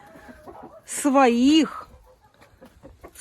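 A hen, kept for hatching eggs, lets out one loud, drawn-out clucking call close by, with quieter talk before and after it.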